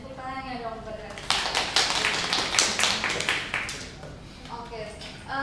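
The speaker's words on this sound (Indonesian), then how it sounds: "Tepuk tangannya dong buat Ranisa." A classroom of students clapping for a classmate named Ranisa during a Japanese-language micro-teaching lesson, a dense burst of applause lasting about three seconds between stretches of speech.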